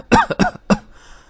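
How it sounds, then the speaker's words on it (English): A person coughs in a short burst of about three harsh, close coughs, then falls quiet. "How long have you had that cough?"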